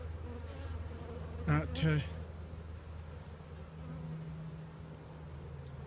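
Honeybees buzz around an open beehive with the queen excluder taken off, a steady close drone running throughout, with a brief louder buzz as a bee passes near and a faint word spoken.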